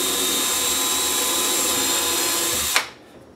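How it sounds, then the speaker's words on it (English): A power drill runs at a steady high whine as it bores through a cabinet door for a handle, close and loud, then cuts off abruptly near the end, leaving quiet room tone. "you always drill from the outside in, never the other way"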